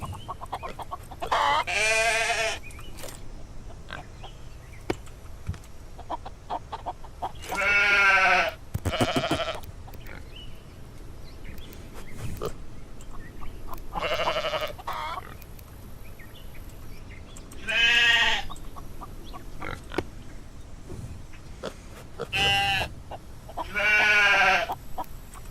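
Sheep in a video game bleat loudly in repeated harsh, wavering cries, each lasting a second or two and separated by quieter gaps over a faint background.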